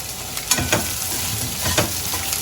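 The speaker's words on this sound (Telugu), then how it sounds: "ఇదిగోండి ఇలా వేయించుకోవాలండి" Sliced okra (bendakaya) fries in hot oil in a pan until crisp, giving a loud, unbroken sizzle punctuated by a few scraping stirs.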